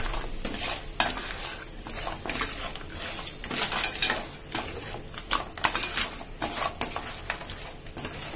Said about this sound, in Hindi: अच्छे से मिक्स करेंगे ताकि क्रैप को मसाला अच्छे से लग जाए।